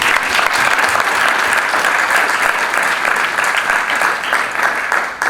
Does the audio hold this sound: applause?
yes